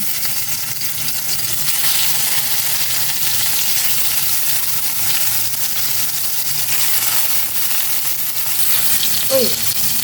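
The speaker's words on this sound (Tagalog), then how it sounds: "Prito ko na sa embutido." Embutido frying in a pan gives a loud, continuous sizzle and crackle that holds steady for the whole stretch, close by, with no one talking.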